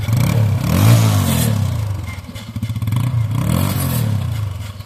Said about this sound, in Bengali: আমি যদি একটু পিক আপ দিয়ে আপনাদের একটু সাউন্ডটা শোনাই,